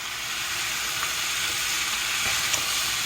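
Beans, peppers and potatoes being stirred together in a hot pan, giving a continuous sizzling hiss with faint scraping touches of the spoon.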